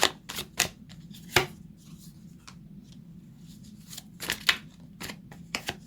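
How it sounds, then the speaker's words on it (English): Tarot cards being shuffled in quick irregular bursts of crisp riffling and slapping, close and fairly quiet, with short pauses between. "I do talk to my cards as I shuffle."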